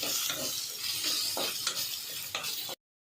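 Ginger and garlic are sautéed in a pan with onion and tomato, giving a steady loud sizzle with repeated spatula scrapes against the metal, with no talking.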